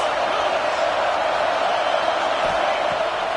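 A stadium crowd in a college football video game roars as a dense, steady wall of noise with no breaks or swells, filling the whole stretch.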